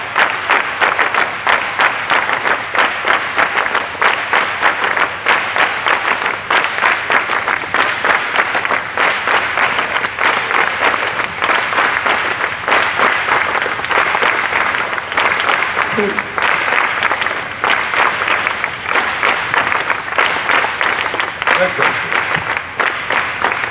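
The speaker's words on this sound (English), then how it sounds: "Keep on clapping." Sustained applause from a crowd at the inauguration ceremony of a school kabaddi tournament for under-14 and under-17 teams, loud and steady for the whole stretch with a few voices rising faintly through it.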